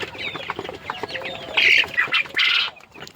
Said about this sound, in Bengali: এই হচ্ছে কোয়েল পাখির ডাক